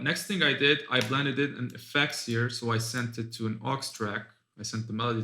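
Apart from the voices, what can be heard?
No distinct noise like a dog, phone or traffic.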